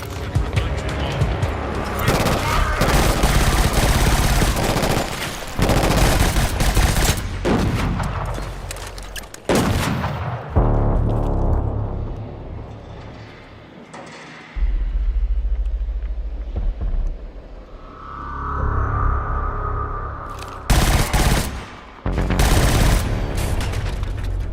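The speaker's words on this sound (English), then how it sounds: "If you're looking for a beautifully crafted FPS that gives you more than just mindless shooting" Rapid bursts of gunfire from a first-person shooter video game, loud and dense, repeated in volleys with brief gaps, mixed with rumbling game effects.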